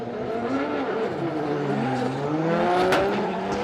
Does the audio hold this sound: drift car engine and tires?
yes